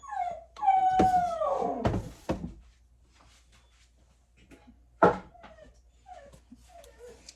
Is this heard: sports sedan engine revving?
no